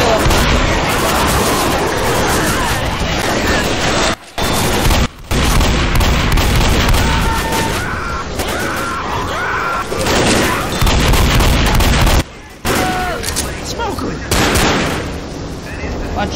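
Heavy gunfire and booming blasts in the zombie video game Left 4 Dead, near and loud, with dense volleys broken by brief silences while players shout over the chaos.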